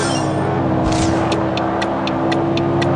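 A car engine in a racing video game drones steadily at a constant pitch, loud and close, with a brief whoosh near the start and a series of short, evenly spaced high ticks over it.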